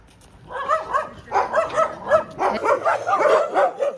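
Several dogs bark and yip repeatedly up close, a rapid overlapping chorus of excited yelps.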